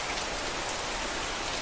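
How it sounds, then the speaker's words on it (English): Steady rain falls outdoors on a windy afternoon, a dense, continuous hiss of drops striking surfaces, loud and close throughout with no pauses. "suddenly the weather changed and it started to rain like this"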